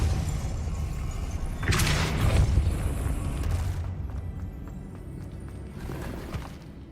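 A Depulso force spell cast in Hogwarts Legacy lands as a single booming burst with a brief rumbling tail, standing out over a steady game ambience before fading.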